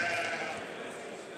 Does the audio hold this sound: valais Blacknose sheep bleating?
yes